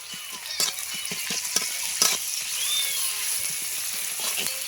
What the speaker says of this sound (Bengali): রসুন বাটা দিলাম,